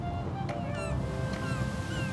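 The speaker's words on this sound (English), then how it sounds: "That's the sound of the ocean." Ocean waves at a cartoon beach make a steady, loud wash of surf, with faint gull-like cries drifting over it throughout.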